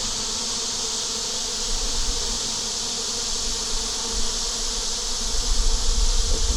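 Honeybees swarm outside a hive on a hot day, a dense continuous buzzing hum that swells slightly louder toward the end, close by with no talk.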